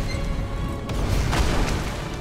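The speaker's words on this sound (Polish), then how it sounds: "Chyba bomby wybuchły." Bombs explode in the video game Magicka: deep booming rumbles roll out, one heavier thud in the middle, low and muffled like distant explosions.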